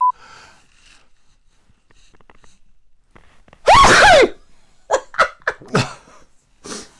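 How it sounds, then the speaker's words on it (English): A single loud, sharp sneeze erupts nearby after a quiet stretch, followed by a few short breathy gasps and huffs. "Nothing like a manly sneeze to start the day."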